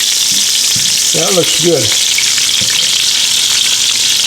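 Meatballs sizzle steadily in a hot pan, a constant bright frying hiss throughout, while a person briefly speaks over it.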